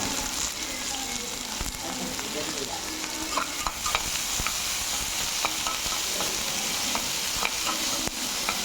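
Two large onions sauté in oil in a pan, giving a steady bright sizzle throughout with faint scraping and stirring ticks scattered across the mix, with no talking.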